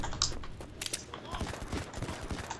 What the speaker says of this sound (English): Oh, somebody's shooting up there.